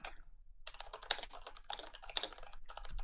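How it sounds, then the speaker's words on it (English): Fingers typing on a computer keyboard in a rapid, uneven clatter of key presses, fairly faint and close, with no voices, pausing briefly at the start and once near the end. "I don't know whose keyboard that is"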